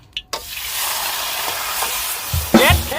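Spicy snake curry stir-fried in a flaming wok, a steady loud sizzle and scrape of the stir-fry running throughout with a few sharper clanks and flares near the end.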